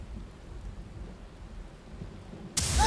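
Heavy rain hisses steadily from a lightning spell in the video game Tyranny, with a sharp thunder crack bursting in loudly near the end.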